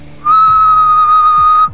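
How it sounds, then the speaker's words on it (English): A person whistles a single steady, pure, high note into a microphone in a laboratory setting, held for about a second and a half, loud and close, with faint low background noise. "And you can see when I whistle"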